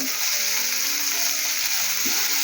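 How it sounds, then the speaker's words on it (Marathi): Bombil (Bombay duck) fish fry Malvani style in a pan over a low flame, a steady, close hiss of sizzling oil that stays even throughout with no pauses. "बारीक गॅसवर भाजायचे बोंबील पण एकदम बारीक गॅसवर भाजायचे"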